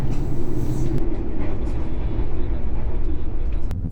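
A passenger train runs straight through Purwosari station without stopping, heard from on board: a loud, steady rumble of wheels on rails with rolling low-end roar throughout, and a brief sharp clack near the end.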